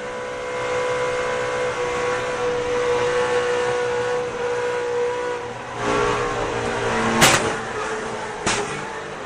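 NASCAR stock cars race at Talladega in the 2007 Aaron's 499, their engines making a steady broad roar with a sharp burst near the end as cars pass.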